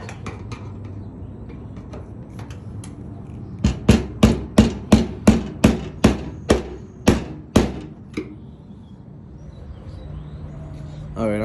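A hammer strikes a metal fuel tank lock ring about a dozen times in a quick, sharp, ringing series, close and loud, with quieter stretches before and after.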